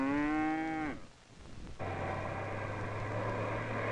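A single long, low moo from cattle on farmland fades out, then a steady hum and broadband rumble, likely a vehicle or machine, runs on underneath.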